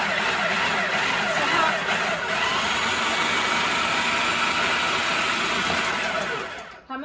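A food processor pulses an Italian mixture as olive oil is added, giving a loud, steady motor whir that runs almost the whole time before cutting off abruptly near the end.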